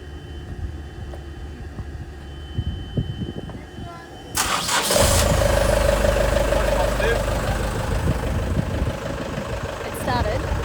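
After quiet background noise and faint voices, a sailboat's engine cranks and catches, roaring into a loud, steady rumbling idle that continues.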